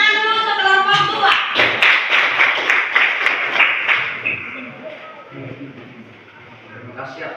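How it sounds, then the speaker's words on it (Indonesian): A small group claps for presenters in a classroom teacher-training session, a few seconds of brisk, close hand clapping with voices over it, then the clapping fades into quiet talk. "Tepuk tangan dulu untuk kelompok 2"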